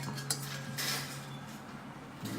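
A spoon scoops and scrapes slime ingredients in a bowl, soft clinks and a brief sharp tap over a low steady hum, close and fairly quiet.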